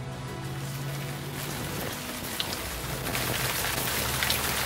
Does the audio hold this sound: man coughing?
no